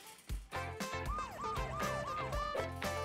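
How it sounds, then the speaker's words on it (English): An ambulance siren wails in a cartoon-style scene, its rising and falling electronic tone sweeping repeatedly over a rhythmic thumping backdrop, fairly loud and without speech. "Ambulance is here!"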